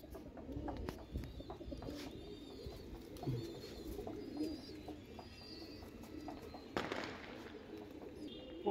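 Pigeons of the Napta line, with black tails and a fierce temperament, coo in a pigeon loft at Mirpur, with low throaty calls rolling steadily under some scattered chirps and shuffling.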